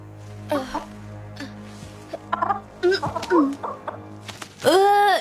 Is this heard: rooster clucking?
yes